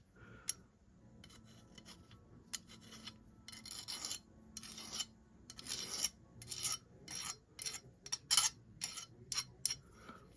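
Metal file rasping burrs off factory pillars for rifle pillar bedding, a series of short scraping strokes in irregular bursts, close and clear with no talk.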